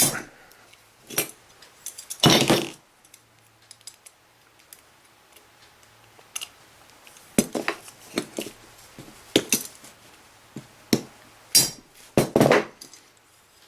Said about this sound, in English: take our hammer and try to tap it right down out